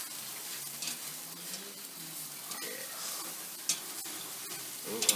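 Sausages and chicken wings on a charcoal barbecue, a soft continuous sizzle with faint crackles and a few sharp pops, quiet and close.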